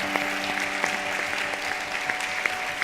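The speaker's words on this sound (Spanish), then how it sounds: "me gustaría pedir también un fuerte aplauso para todas ellas" Audience applause at the Paterna City of Business awards gala, a steady wash of clapping with some sustained tones running beneath, moderately loud and continuous, no talk.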